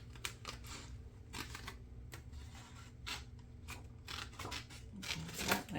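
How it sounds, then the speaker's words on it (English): Scissors fussy-cut paper for a mixed media art journal, a string of small quiet snips in an uneven rhythm, close and soft with no talking. "Gotta be careful what I'm cutting here."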